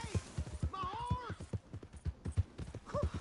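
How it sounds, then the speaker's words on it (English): Horse hooves clip-clop in a steady, quick rhythm on a PS4 video game, loud and close, while a character's voice speaks over the hoofbeats. "Hey! My horse!"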